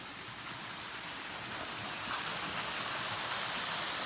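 A creek in the Missouri Ozarks runs below a waterfall, giving a steady, broadband rushing and splashing that sounds close and continuous, with no voices over it.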